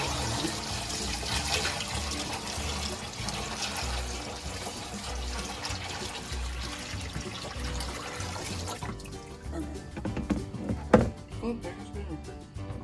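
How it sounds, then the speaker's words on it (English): Steady rushing dirty turtle tank water pours continuously into a sink for several seconds, then thins out into a lighter trickle with a few splashes near the end. "Pour this stinky water in."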